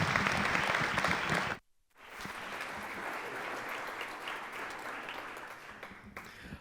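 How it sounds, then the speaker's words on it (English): Applause from a Columbus Metropolitan Club audience at a talk on college sports, steady and full, broken by a brief silent gap before the clapping resumes and then tapers toward the end. "Can you give him a round of applause?"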